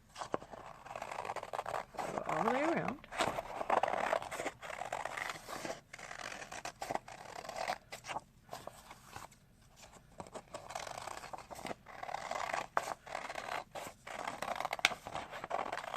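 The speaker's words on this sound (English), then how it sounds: "I'm going to cut around, and in this way I get a pumpkin shape that is exactly the same on the orange paper and on the black paper." Scissors snip and scrape steadily through stacked orange and black paper, cutting a pumpkin outline for a symmetrical jack-o-lantern, close and fairly quiet with brief pauses and a few soft spoken words.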